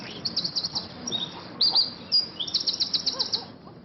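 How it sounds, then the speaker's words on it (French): Small birds trill and chirp in quick, high repeated phrases on a birdwatching walk in the Bay of Somme, several calls overlapping against a quiet outdoor background. "une balade à l'écoute d'une multitude de chants d'oiseaux"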